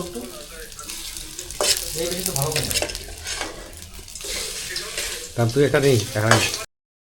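Crabs frying in a pan at a crab party, a loud crackling sizzle with clattering stirring and utensil scrapes, while people talk over it throughout.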